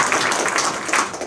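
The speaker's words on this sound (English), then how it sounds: "So Tristan deserves a huge round of applause for putting this event together." Audience applause filling the room at a smartphone-connected devices panel event, steady dense clapping throughout, fairly loud and close, with no talking over it.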